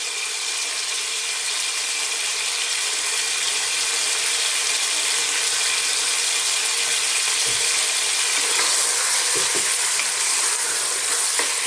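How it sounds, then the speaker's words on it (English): Seasoned camel meat browns in a hot pan over medium heat: a loud, continuous sizzle close by, with scraping and rattling from stirring toward the end, and no speech. "what I'm going to try and do is just brown our meat off and kind of seal it a little bit"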